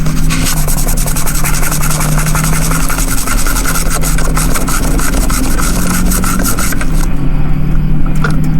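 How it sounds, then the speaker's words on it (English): An eraser rubbing across paper to remove a mistaken colored drawing, with continuous close scrubbing strokes that run steadily and loudly throughout. "Take out my trusty eraser."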